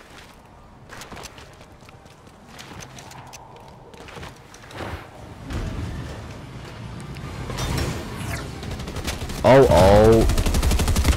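Gunfire from the Red Eye weapon in a shooter game, sharp scattered shots and game effects that build to a louder rapid burst near the end, with a brief voice exclamation partway through.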